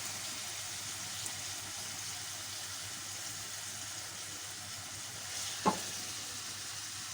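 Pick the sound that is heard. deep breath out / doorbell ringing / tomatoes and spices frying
tomatoes and spices frying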